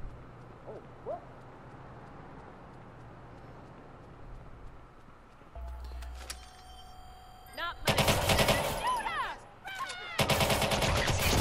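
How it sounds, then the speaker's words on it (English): Video game gunfire in Watch Dogs 2 erupts as loud, dense bursts of rapid shots in the second half, following a quieter stretch of ambient game sound. "Go in guns blazing."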